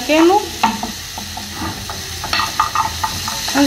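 Garlic frying in oil in a pan and being stirred until browned, a loud close sizzle with repeated scraping stir strokes and no talking.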